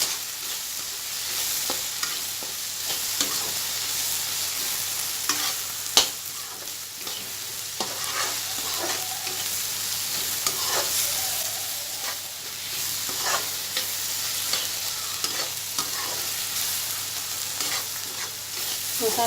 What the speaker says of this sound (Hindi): हल्दी पाउडर और 1 बड़ा चम्मच राइस मसाला, और इसे अच्छे से मिक्स कर देंगे।